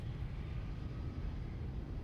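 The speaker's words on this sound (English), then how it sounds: "Genuinely does sound like the engines are just spooling up and down." Boeing 737-800 engines in X-Plane 11 drone steadily in a low, continuous rumble, sounding as if they spool up and down; the tone stays fairly even and moderately quiet throughout.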